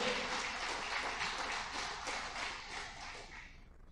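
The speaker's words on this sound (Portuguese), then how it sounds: "Quem pode aplaudir Jesus?" Church congregation applauds Jesus during an evangelical sermon, a soft, distant wash of clapping that holds steady for a few seconds and then fades out.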